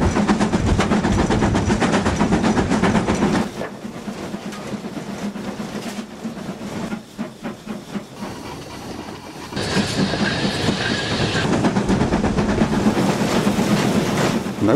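A British Railways Standard Class 4 steam locomotive, 75027, runs on the Bluebell Railway in Sussex, heard from the cab as a steady rolling rumble with rhythmic clickety-clack, easing briefly before surging loud again.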